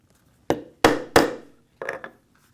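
A hammer strikes a metal snap setter on a leather hatchet cover: four sharp, close knocks, three in quick succession and a lighter fourth after a pause, each ringing briefly over quiet surroundings.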